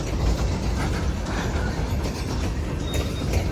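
CSX L234 freight train of about 80 cars rolls past in downtown Greenville, NC, a loud near steady rumble of wheels and wagons with clattering rail joints and metallic squeals.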